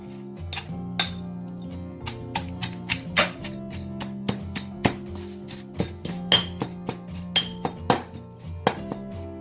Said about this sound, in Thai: ลังจากเราโขลกทุกอย่างละเอียดแล้วค่ะ